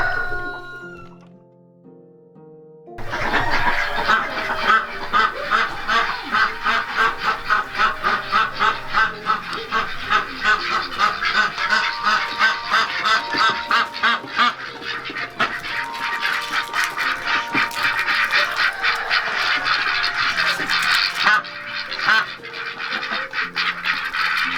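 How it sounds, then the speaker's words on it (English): Ducks and geese in a duck house quack and honk as a dense, continuous flock chorus, loud and close, running for a long stretch after a brief quieter opening. "So we're in the duck house right now."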